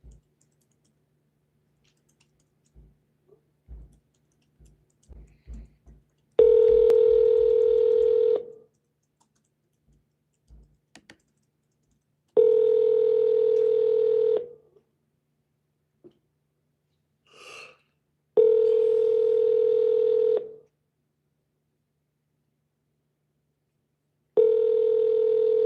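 Telephone keypad tones beep in a quick string of presses, followed by three long, evenly spaced ringback tones on a call and the start of a fourth, with quiet gaps between them.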